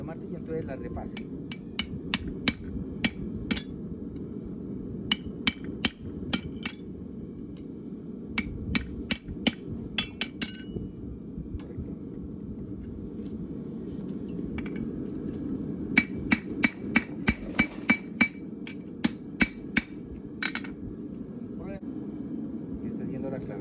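A hammer lands sharp, ringing metal blows on a horseshoe forged from a steel rod. The strikes come in irregular bursts and pauses over about twenty seconds, close and clear over a low background rumble.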